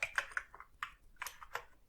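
Typing on an Amiga computer keyboard: a quick run of soft, close key clicks in small irregular bursts, fairly quiet with no talking.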